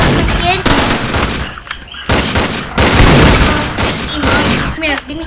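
Rapid shotgun blasts and gunfire ring out in the video game Authority, a loud, close volley of repeated bursts with short gaps between them, with some voices mixed in.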